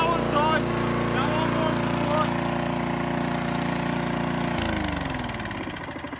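A lawn mower engine that is leaking oil runs steadily at a mid-pitched idle near the microphone, then drops in pitch and winds down toward the end.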